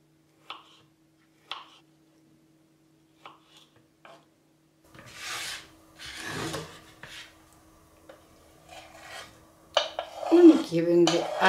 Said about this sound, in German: Dann habe ich mir noch so eine Goldkiwi genommen und die müssen wir erstmal schälen.